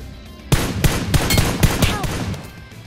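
Rapid gunfire from a video game shotgun, a burst of about eight sharp, loud shots in quick succession, close and clear with no voices.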